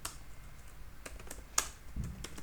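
A PHP command is typed on a computer keyboard as sparse, light key clicks in an irregular rhythm, with one sharper keystroke standing out near the middle; the clicks sound close and fairly soft.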